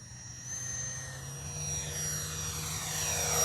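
A Freewing F-22 Raptor 70mm RC jet comes in to land, its electric ducted fan giving a steady close whine with a high tone that shifts slightly as it glides, slowly growing louder.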